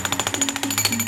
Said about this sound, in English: Jackhammering produces a significant amount of dust.